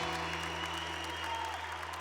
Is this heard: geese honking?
no